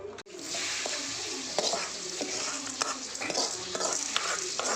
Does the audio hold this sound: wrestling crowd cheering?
no